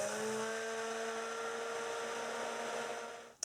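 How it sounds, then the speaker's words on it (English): A stick blender whirs steadily through soap batter of oils mixed with clay, giving a loud, even motor whine with a constant tonal hum that holds for about three seconds before cutting off abruptly. "a quick whiz with the stick"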